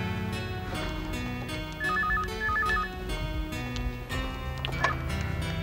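A phone rings with two short electronic warbling bursts, heard over a background of music and other sounds.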